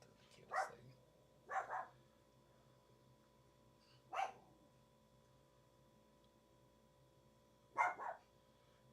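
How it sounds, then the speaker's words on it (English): A dog barks at a noisy egg cooker in short bursts, four quick barks spread out with quiet gaps between them, heard faintly and without anyone talking. "it's making noises and the dog's freaking out at it"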